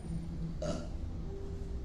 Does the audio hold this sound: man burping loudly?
yes